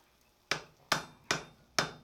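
A hammer strikes hot chain links on an anvil during forge welding: four sharp, loud blows spaced about half a second apart, each ringing briefly before decaying, with no talk.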